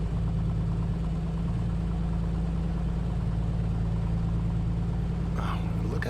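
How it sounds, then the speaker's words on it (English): Cold Piper Comanche aircraft engine idling and warming up in a flight simulator game, a steady low droning hum with even pulsing throughout, a brief higher rustle near the end. "You can actually hear and feel that engine warming up."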